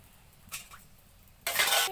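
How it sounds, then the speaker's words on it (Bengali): Grains for kuchila tip into a pot of hot water, with a short rattling burst followed by a longer, louder rush of pouring and splashing, close by and otherwise quiet. "এখন গরম জলে দানাগুলি দিয়ে দিচ্ছি কুচিলা রান্না করার জন্য।"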